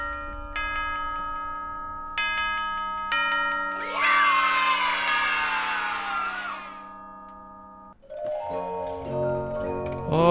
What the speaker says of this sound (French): j'ai jamais été aussi content d'entendre des enfants crier de joie